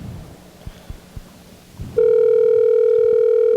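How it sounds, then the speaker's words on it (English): Faint low thumps and background noise give way abruptly to a loud, continuous electronic telephone tone that holds steady to the end, with no voices. "Tired of listening to the phone ring?"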